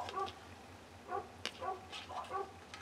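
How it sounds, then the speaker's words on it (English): Dogs bark faintly in the distance, a few short yips and barks spread across a couple of seconds, under a steady low background rumble. "Sorry about those dogs barking."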